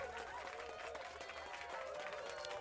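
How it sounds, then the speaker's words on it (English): Applause from a crowd during a live online crime and pop culture news show, a steady dense wash of clapping at low level throughout, with no talk over it. "Round of applause for that."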